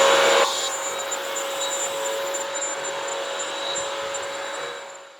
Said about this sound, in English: Now it does vacuum at the same time, so it's like a vacuum and floor cleaner